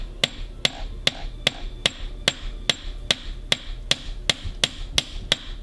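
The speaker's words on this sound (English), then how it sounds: "we have our brad nails cut to size, and we are going to hammer them in" Steady hammer strikes drive brad nails into a bullwhip, about fourteen sharp, evenly spaced taps over a low background hum, each blow close and crisp.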